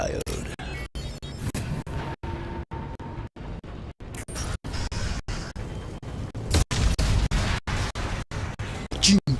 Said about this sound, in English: Sounds like this place is making music with some very heavy percussive bass.